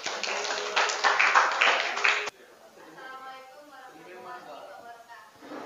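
Short burst of audience clapping after a classroom group presentation on graphing along the X and Y axes, fairly loud for about two seconds and then cut off abruptly, followed by quiet talk.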